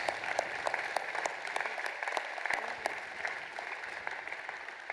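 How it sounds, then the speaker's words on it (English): A commencement crowd at the University of Illinois Urbana-Champaign gives the class of 2024 another round of applause. The clapping is moderate and steady, heard from a distance across a large venue, with distinct individual claps popping out of the wash. "it deserves another round of applause"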